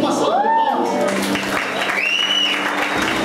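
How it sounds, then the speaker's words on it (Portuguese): Church congregation applauding after a guest is called to the front, a steady wash of clapping filling the room with brief tonal sounds and voices mixed in. "Volmir Bastos Pipe, uma salva de palmas."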